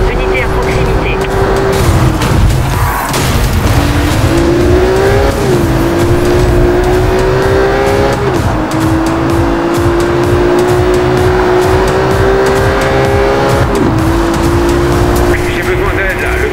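Video game police chase with cars racing, engines holding sustained revving tones that shift pitch with gear changes, plus occasional tire squeal, under a radio-style voice describing the pursuit.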